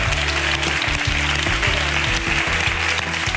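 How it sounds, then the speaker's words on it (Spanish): Studio audience applause on a Spanish TV talent show, clapping over a loud pulsing musical beat that dominates the low end throughout, with no talking. "os merecéis un aplauso de todos nosotros por estar y darnos estos momentos."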